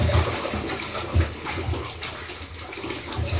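Water from a tap splashes over hands being rinsed, a close continuous gushing with a few heavier surges and no voices.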